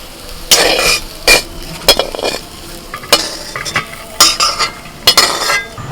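Fried soya chunks being scooped out of a hot wok with a metal spatula, giving a series of sharp, irregular scrapes and clinks over a soft background sizzle, close by.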